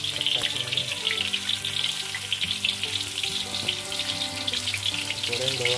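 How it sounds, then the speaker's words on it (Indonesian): Shallots sizzle and crackle steadily in hot oil in a home kitchen while being fried for sambal pecel lele, a dense, continuous hiss of spattering with no talking. "Kita goreng bawang merah."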